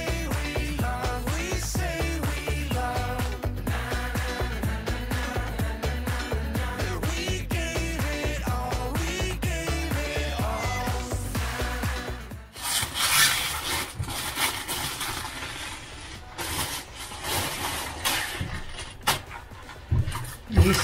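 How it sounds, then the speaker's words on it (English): Music plays for a while, then gives way to rough, rhythmic rasping strokes of sanding fibreglass on an LDV Maxus van, close by, repeating unevenly. "Today we are sanding down the fibres"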